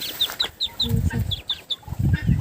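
Chickens cluck softly in short repeated bursts close by in a farmyard, with high chirps of chicks and small birds scattered throughout.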